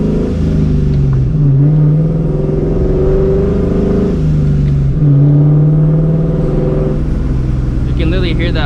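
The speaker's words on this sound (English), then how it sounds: "every downshift, this car backfires. And it's not tuned for that either. It's just the Catless exhaust with that Borla ATAK." Supercharged New Edge Ford Mustang GT with a catless Borla ATAK exhaust, loud engine drone rising and falling through revs and downshifts, with brief sharp pops near the end and voices talking over it.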